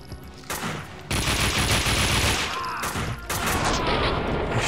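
Gunfire in the video game Max Payne 2 comes as loud, dense bursts of rapid shots and blasts, close and continuous with brief shifts in intensity.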